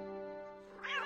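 A cat gives a close, drawn-out meow that rises sharply into a louder, strained cry at the end.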